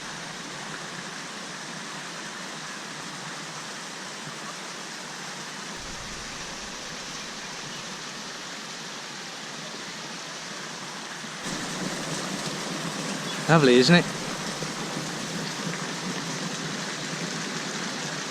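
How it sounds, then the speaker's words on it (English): Water pours from pipes into other pipes and a pond at a mountain royal villa, a steady broadband rushing that grows louder partway through, with a brief spoken remark and a short burst of other noise over it. "Something nice about the sound of running water."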